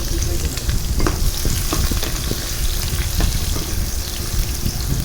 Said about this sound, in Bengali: আমি গোটা গরম মশলা, জিরা, এগুলো সুন্দর করে তেলে ভেজে নিয়ে পেঁয়াজ দিয়ে দিব।